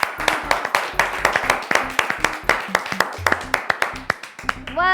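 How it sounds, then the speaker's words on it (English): Applause for four correctly answered sums in a children's quiz show, heard as a small group's uneven, fairly sparse claps spread across the clip at moderate loudness, with a brief tonal sound near the end. "I think they deserve a round of applause."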